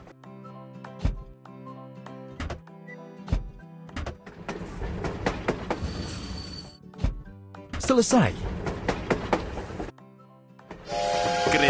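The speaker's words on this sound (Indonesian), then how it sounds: "Kereta sudah tiba." Toy-like train arriving in a children's train-building video game, with clattering rail sounds and mechanical effects over bright game music, while a voice speaks briefly.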